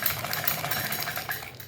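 Sewing machine running steadily while stitching a pocket onto pajamas, a continuous close whirring with even rhythmic pulsing and no talk.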